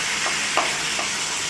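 Taro (kochu) leaves fry in hot oil in a home kitchen, giving a steady, close sizzling hiss throughout with a few soft stirring clicks.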